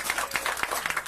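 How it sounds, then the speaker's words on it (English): Small club audience clapping for an early performance, a brief stretch of scattered, uneven hand claps. "so give them a big round of applause."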